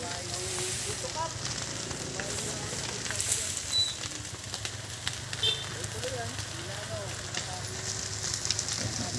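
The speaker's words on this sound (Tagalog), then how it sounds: "Medyo malakas po ang sunog." A large building fire burning, a dense steady roar and crackle close by, with faint birds and distant voices in the background.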